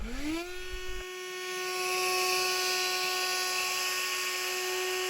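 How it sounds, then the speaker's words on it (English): A cordless leaf blower on its level 5 setting spins up with a rising whine, then settles into a steady loud high-pitched whir, close by and alone. "I'm going to use level 5 setting on the leaf blower"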